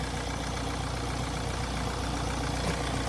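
A 2013 Nissan Qashqai+2 J10 with a 1.6 diesel engine and manual gearbox idles steadily, a constant, even mid-low hum with a faint rhythmic clatter, close and alone with no talk.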